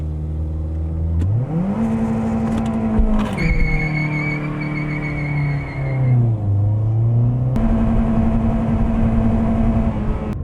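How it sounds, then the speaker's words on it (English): A Toyota car with a pint of vodka in its fuel is dropped from neutral into gear, the engine revving loudly and rising in pitch, then holding and dipping as the wheels spin briefly, with no one speaking. "The car is still neutral dropped and it still spinned a little bit"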